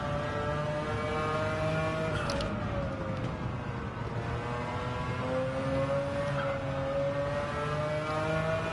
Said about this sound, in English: Just take a moment just to listen to that engine and just flow the car through the corners.